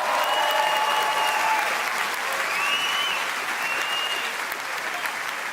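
Comedy club crowd clapping and applauding steadily for a comedian's mother on her birthday, a dense continuous wash of hands with a few faint whoops and cheers rising above it.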